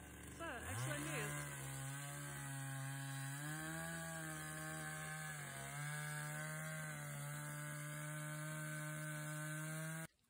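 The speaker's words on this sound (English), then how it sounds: "get this chainsaw the way it needs to be to chop all of this wood" A chainsaw engine revs up and drones steadily with a few dips in pitch as it bites into wood, loud and close, then cuts off abruptly at the end.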